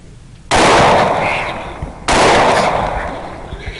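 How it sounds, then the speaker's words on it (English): Two loud rifle shots from a feral hog hunt, each a sharp, heavy blast that rolls into a long echoing decay outdoors, with about a second and a half between them. "A couple more shots."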